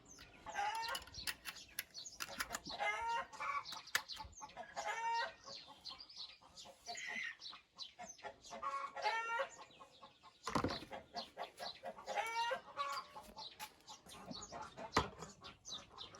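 Hens cluck repeatedly nearby in overlapping bursts, with a brief flutter of wings partway through.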